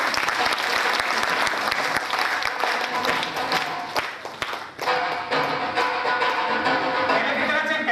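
Sustained audience applause fills a training session hall, dense and steady for several seconds with a brief dip near the middle before resuming strongly.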